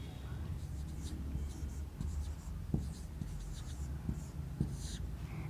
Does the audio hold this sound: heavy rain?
no